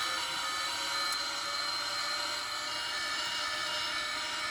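Boeing 777-300ER engines in a flight simulator game spool up as thrust advances toward takeoff, a steady, loud, even drone with a high whine and no voices.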